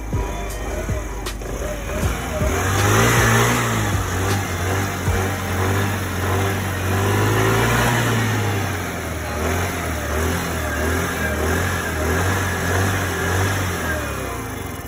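A Ruckus clone scooter's small engine, freshly fitted with an upgraded carburetor, runs close by with a steady droning idle, rising into a few revs and settling back to an even putter, no voices.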